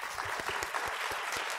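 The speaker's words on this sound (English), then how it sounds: "maybe we can applaud the panel" Audience applause for a panel at a renewable energy jobs conference, a dense burst of many hands clapping close by, steady throughout with no voices.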